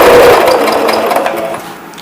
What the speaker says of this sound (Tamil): ஜஸ்ட் ஒரு ஸ்டிச் மட்டும் நான் போடுறேன்.